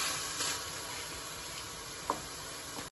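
Onions frying with browned mixed meat for lasagna make a soft, continuous sizzle, heard faintly from close by, with a brief tick near the end and no voices.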